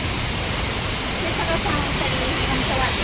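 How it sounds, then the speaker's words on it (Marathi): Heavy rain keeps pouring during a storm with strong winds, a loud, unbroken roar of water that fills everything evenly from start to finish. "हे बघा पाऊस अजून चालू आहे"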